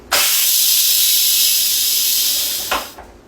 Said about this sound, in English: now we're going to do the instant depressurization.